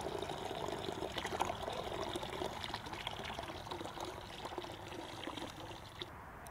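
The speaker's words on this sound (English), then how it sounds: "So this is how much flow we're getting out of this, is just gravity fed now that we moved the hose" Rainwater pouring steadily from a gravity-fed hose at a barn collection tank, a continuous close splashing trickle with no break and no talking.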